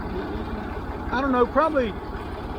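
A Massey Ferguson MF 50 diesel tractor running in second gear, high range, at about 450 rpm, hums steadily with a low, even throb close by while someone talks over it.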